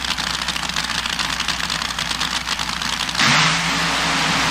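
A drag racing car at the Winter Nationals, struggling to run well, idles roughly with a loud, pulsing engine rumble before abruptly revving up into a sustained, harsh roar near the end.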